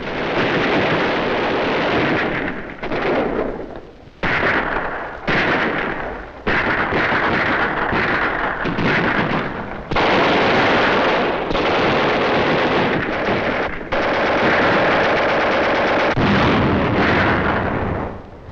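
Heavy WWII gunfire and artillery from skirmishes in Tunisia, a dense run of loud machine-gun bursts and booming blasts broken by brief gaps, harsh and close.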